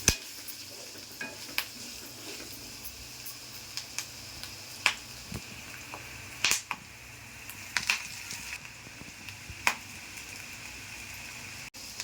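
Raw peanuts roasting in a pan for chutney, faint sizzling with scattered small crackles and ticking pops, close and quiet, no talking.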